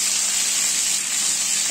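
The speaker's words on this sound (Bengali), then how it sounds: "তরকারিটা আমাদের ভাজা হচ্ছে, এবার আমি ঢাকনাটা চাপা দিয়ে জোর আঁচ করে এটা ভেজে নেব।" A vegetable curry fries over high heat in a covered pan, giving a steady, loud, hissing sizzle with no break and no voices.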